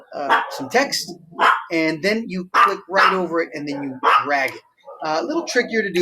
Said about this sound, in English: Sorry, that's my dog there.